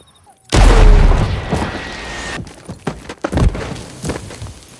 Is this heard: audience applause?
no